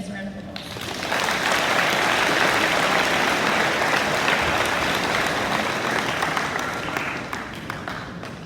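An audience at a high school awards day ceremony bursts into steady applause for students, rising quickly and holding for several seconds before tapering off.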